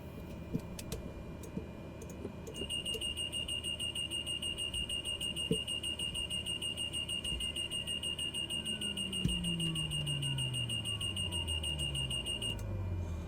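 A high, steady electronic warning beep in the cockpit of a Black Square Grand Caravan turboprop flight simulator, repeating continuously for about ten seconds over a constant low engine or fan hum, with faint clicks.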